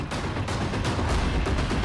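Firecrackers burst in a Maharashtra street during a procession: a dense, loud, continuous crackle of overlapping bangs with no pause and no voices.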